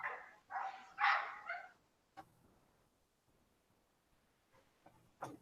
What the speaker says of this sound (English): There's a dog outside. Yeah, it's a loud ass dog.